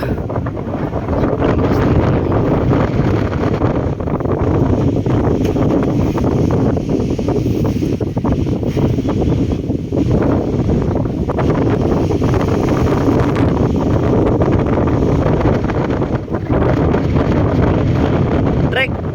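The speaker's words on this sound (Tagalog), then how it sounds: "Yan, medyo mahangin." Steady wind buffeting the microphone with a low rumble throughout, alongside constant broadband roar like a moving boat, with no clear talk.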